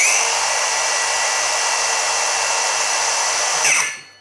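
A DongCheng DCMY12 cordless circular saw spins freely with a loud, steady high-pitched whine close by, then the trigger is released and the blade brakes to a quick stop.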